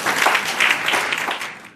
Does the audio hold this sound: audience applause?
yes